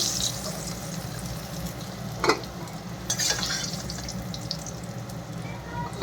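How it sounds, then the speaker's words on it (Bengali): Potatoes frying in hot oil for a Bengali masala biryani, a steady close sizzle with a couple of brief utensil clinks around the middle. "একটু করে আলু ভেজে নিলাম"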